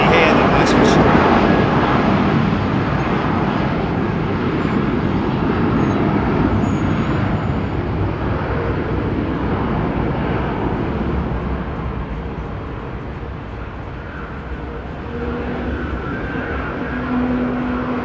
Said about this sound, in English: when we're this close to the departures, it's great to just about see them, but definitely hear them